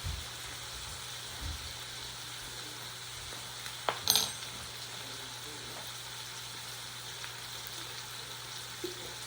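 Bacon sizzles in a heating pan with a steady, faint frying hiss, broken by a couple of sharp clinks and pops near the middle.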